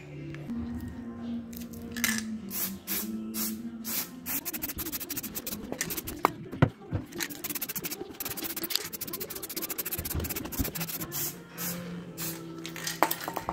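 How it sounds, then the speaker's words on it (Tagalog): A spray can lays matte black paint onto a part of a 2017 Yamaha NMAX V1 ABS scooter in short, repeated hissing bursts, close and steady, over a faint low hum. "pinturahan natin ngayon. Matte black."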